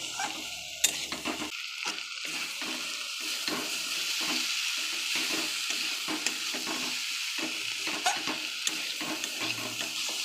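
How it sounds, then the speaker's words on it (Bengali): Red amaranth stems stirred in a pan with mustard paste make a steady scraping and sizzling bustle, with irregular spoon knocks and shuffles running throughout, close and fairly loud. "একটু ভালো করে নাড়াচাড়া করে নিয়ে সর্ষে বাটাটা দিয়ে দেবো।"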